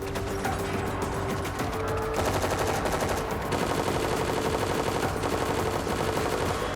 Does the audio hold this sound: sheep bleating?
no